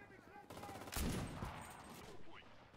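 Enemy gunfire in the WWII shooter Enlisted arrives as a burst of shots with a sharp crack near the one-second mark and further rattling after it, all fairly quiet in the mix.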